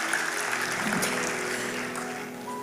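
Broad applause from a large church congregation fills the room at a steady, moderate level, with a sustained hum and a few faint tones beneath it.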